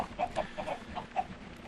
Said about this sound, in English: the eggs are coming fast and furious now that I've increased the amount of chickens that are in there